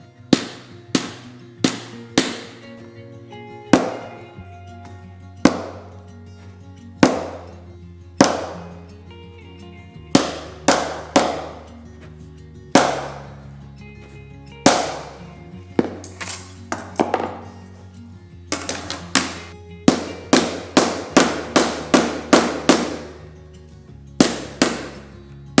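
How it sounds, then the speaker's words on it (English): Sharp, repeated hammer taps drive spline into a window screen frame on a truck camper, coming in irregular bursts of single and rapid strikes with brief ringing decays over a low background hum. "you're trying to hammer it by yourself"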